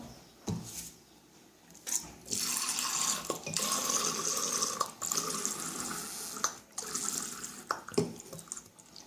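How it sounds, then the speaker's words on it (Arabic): Orange blossom water pours into a cake mixture while baking honey cakes, a continuous liquid splashing and trickling close by with a few clunks and pauses. "هنا نزيد نص كاس ماء الزهر"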